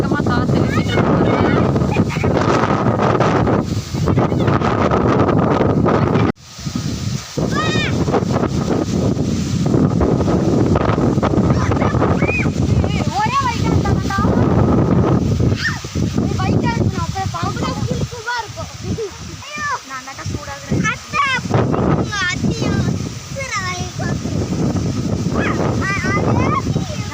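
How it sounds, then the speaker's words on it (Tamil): Fierce wind sweeps through an outdoor spot ahead of a rainstorm, producing a continuous loud rushing roar with gusty surges and mic buffeting. Tamarind fruit is falling from the trees nearby, and a voice speaks intermittently over the noise. "எவ்வளோ வேகமாக காற்று வீசிட்டு இருக்கு"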